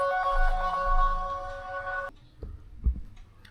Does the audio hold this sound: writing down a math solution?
no